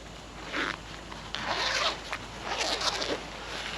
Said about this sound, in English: as a weatherproof zip all the way up the leg, which makes it a lot easier to get it on in a hurry